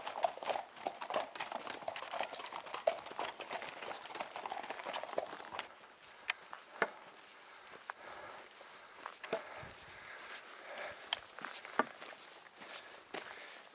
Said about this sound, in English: There's my mom riding a horse through Bryce.